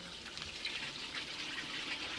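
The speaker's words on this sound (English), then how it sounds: "Now we want to drain all the water from" Rinse water draining off potatoes in a kitchen, a continuous splashing, pouring rush of liquid heard close up with no talking.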